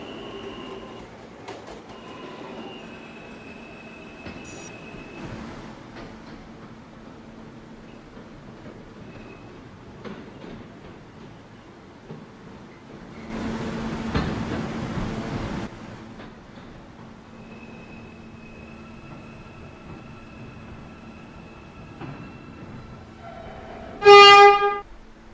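R160A subway train on the Fifth Avenue lines, a low rumbling ride with faint tonal hums and a louder hissing rush midway, ending in a sharp high squeal of wheels or brakes.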